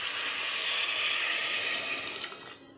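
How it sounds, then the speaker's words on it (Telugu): Water poured from a vessel into a pan of onion curry, a steady bright splashing stream, close and fairly loud, tapering off near the end with no voices. "ఇప్పుడు ఇందులోకి తగినంత వాటర్ వేసుకుందాము."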